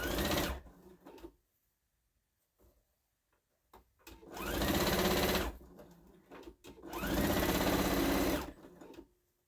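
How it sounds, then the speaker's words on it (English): A sewing machine stitches Santa placemats in two long, loud, steady runs of rapid needle chatter, separated by short quiet gaps and a few brief starts. "But I just piled them on and just kept sewing."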